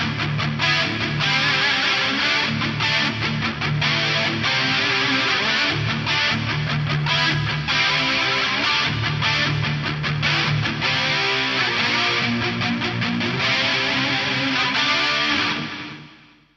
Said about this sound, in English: I'm pretty sure this is a stereo delay, stereo chorus, and some reverb.